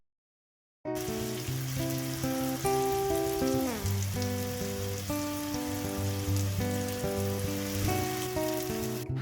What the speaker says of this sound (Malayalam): ഒരു സൈഡ് മാത്രം നമ്മൾ ഫ്രൈ ചെയ്തെടുക്കുകയാണ്